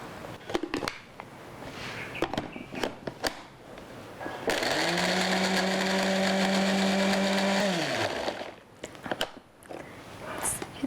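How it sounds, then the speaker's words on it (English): A blender whirs loudly for about three seconds, pureeing garlic, ginger, turmeric and coconut milk, then winds down. Clatters and kitchen handling come before and after. "So I'm going to blend the garlic, ginger and turmeric and added a little bit of coconut milk"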